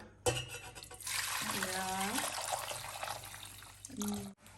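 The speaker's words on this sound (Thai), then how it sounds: "เดี๋ยวให้ป๊าป๊าเทน้ำก่อน" Water is poured into a pot for a Thai jim jum hot pot, a steady close splashing pour lasting a few seconds with a bubbling, rising tone as the pot fills.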